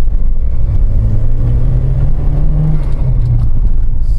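Turbocharged Ford Escort Cosworth with a hybrid turbo, its engine revving and building boost around 2,700 rpm, a loud steady low drone that rises slightly in pitch, heard up close without talk.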